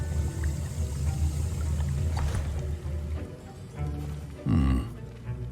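A liquid swirl and slosh from stirring a potion in the video game Hogwarts Legacy, rising briefly near the end over a quiet, steady musical backdrop.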